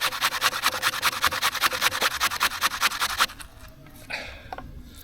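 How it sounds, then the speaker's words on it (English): Elephant garlic rubbed over a grater in quick rhythmic rasping strokes, close and loud, about a dozen scrapes before stopping, followed by a few faint handling noises. "So I'm just going to grate some of that off and we'll chuck that in as well."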